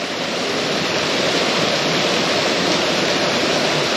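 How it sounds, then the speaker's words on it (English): A waterfall on a campsite walk gives off a constant, loud, broadband rush of falling water close by, with no talking. "that's not a bad waterfall"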